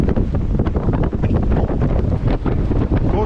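Strong wind gusts topping 40 knots roar across a sailboat sheltered from big waves off Egypt, a loud, continuous buffeting rush that swells and dips without letting up.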